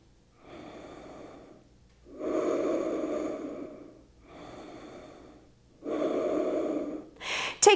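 Deep, audible breaths during a yoga flow, four long airy breaths close to the microphone, alternating softer and stronger, each followed by a short pause, with no talking.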